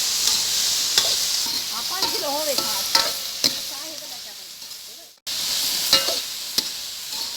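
Vegetables frying and being stirred in a pan for a home-style Indian vegetable dish, a steady close sizzle with scraping stir strokes and a few clinks, briefly cut near the middle then resuming.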